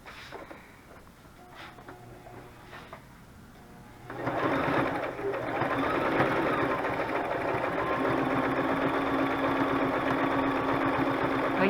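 A sewing machine stitches through a lacy junk journal cover: after a few quiet seconds the motor starts and runs in a steady, close, buzzing whir until the end.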